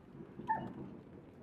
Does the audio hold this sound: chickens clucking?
no